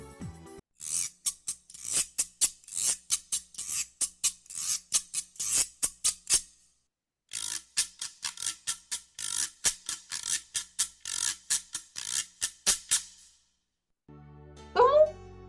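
Wooden derkach, a traditional Ukrainian ratchet rattle, spun around its handle, giving bursts of rapid dry clacking in steady rhythmic pulses, close and loud, with a brief pause midway before the whirring clatter resumes.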